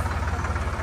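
A tractor engine runs at a steady idle with a rhythmic low throb, heard close from the seat of the tractor.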